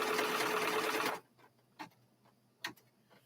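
A sewing machine stitches fabric in a fast, steady whir for about a second, then stops, leaving a quiet room with a couple of faint clicks.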